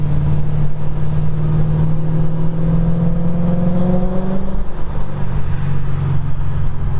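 A BMW E92 M3's exhaust with American Racing headers burbles loud and close, heard with windows down, a deep steady rumble that shifts in pitch as the engine revs, with a brief high whine near the end.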